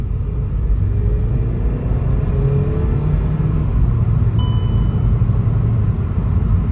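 Full-throttle acceleration in a VW Polo 6R 1.4 TSI 140 after its ignition coils and spark plugs were replaced: a loud, steady engine drone heard from inside the car, with a brief electronic chime partway through.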